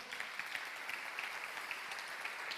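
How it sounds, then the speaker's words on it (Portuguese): A church congregation at a worship service applauds, a faint, steady patter of many hands clapping continuously with no voices over it. "Você pode aplaudir o Senhor?"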